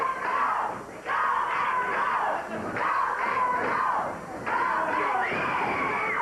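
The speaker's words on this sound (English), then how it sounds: "Crowd's hollering, go Basher, go." Crowd at a 1980s Memphis professional wrestling event hollering and cheering in loud surging waves, the roar dropping briefly then swelling again, with shouts and screams rising out of the mass of voices.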